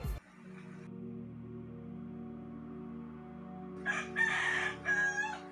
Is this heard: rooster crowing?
yes